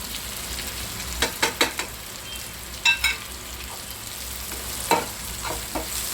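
Tomatoes frying in a pan as red masala is added, a continuous sizzle broken by several sharp scraping and stirring knocks in bursts, close and clear, with no talking.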